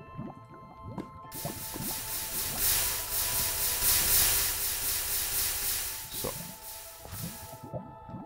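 Water poured from a bucket onto lava in Minecraft gives a sustained fizzing hiss that rises and fades over several seconds, with footsteps and small clicks around it and a brief spoken word.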